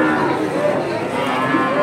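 Sindhi breed bull mooing at a busy cattle market, one drawn-out low moo close by over a murmur of background crowd noise.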